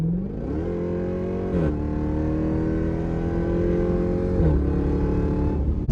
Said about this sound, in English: Love the acceleration in the Jeep Grand Cherokee Trackhawk.